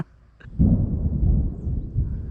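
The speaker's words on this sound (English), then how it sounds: "Thunderstorm's piling on me here. I don't mind the thunder" Thunder rolls in during a thunderstorm while out brook trout fishing, a sudden deep rumble that swells and keeps grumbling low and heavy for a couple of seconds.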